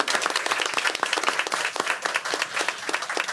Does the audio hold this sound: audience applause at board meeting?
yes